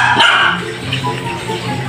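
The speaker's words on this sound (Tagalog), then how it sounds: "Yung mga ingay na aso namin," Several pet dogs bark at home, a loud, busy burst of yaps and barks at the start that settles into softer barking and yips, with room noise underneath.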